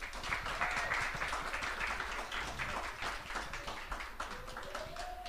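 At a chat and networking event, an audience claps for a guest speaker: a steady, fairly loud round of many hands with quick irregular claps throughout and no talk over it.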